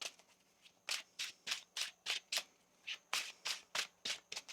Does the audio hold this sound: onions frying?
no